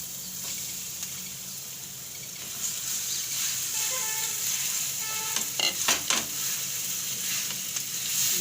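Boiled potato filling for vada pav, with turmeric added, is mashed and stirred in a pan over low heat, giving a steady soft sizzle with a few scraping, clacking utensil strokes near the middle.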